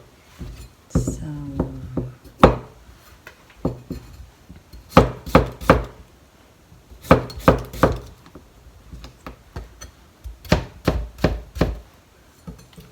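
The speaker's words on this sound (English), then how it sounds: "First, cut cucumber into the same shape of the burdock and carrot." A knife chops a cucumber on a cutting board in several quick rhythmic runs of three to five crisp taps, separated by pauses, close and clear, with a brief moment of speech near the start.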